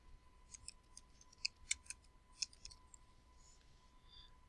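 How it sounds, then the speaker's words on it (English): Quiet typing on a computer keyboard: a short run of light, irregular key clicks over a faint steady hum. "I'm going to type in architecture."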